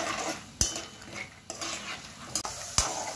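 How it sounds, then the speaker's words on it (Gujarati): Peanuts fry in hot oil in a pan for ragda patties, a soft steady sizzle broken by a few sharp clinks of a spoon stirring against the metal. "તો પહેલાં આપણે બી તળી લેશું."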